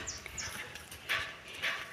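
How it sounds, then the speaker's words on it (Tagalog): A few hooves clip-clop at a steady pace, faint and somewhat distant, against a soft background. "Ay, kabayo."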